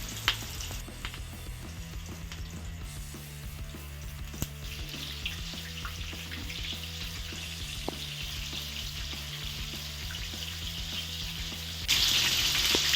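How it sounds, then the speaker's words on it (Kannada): Mushroom kebabs fry in hot oil with a steady, dense sizzle and crackle that runs throughout, swelling louder near the end. "ಚೆನ್ನಾಗಿ ಫ್ರೈ ಆಗ್ತಾ ಬರುತ್ತೆ."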